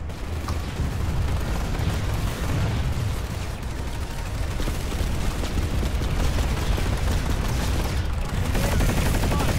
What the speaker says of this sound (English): I'm just gonna fire at things.